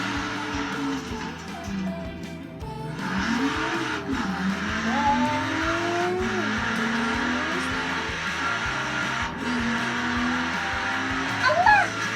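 Cars racing and drifting in an Xbox driving game, with a steady engine drone, rising and falling revs and short tyre squeals throughout, voices faintly mixed in underneath.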